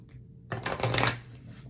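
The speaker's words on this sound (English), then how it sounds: "these are hard to shuffle too" Stiff, rarely used oracle cards are riffled and shuffled in a brief, close burst of papery flutter and slaps, with no talking.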